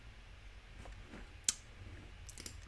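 A single sharp computer mouse click, close and crisp, standing out against a quiet room hum with a few faint soft clicks around it.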